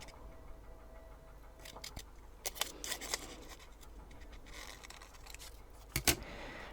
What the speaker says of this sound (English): Cut that out with scissors.